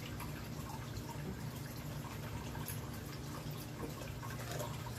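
Water is poured from a container into a reptile's dish to top it off, a steady close trickle and splash running continuously without pause and no talking.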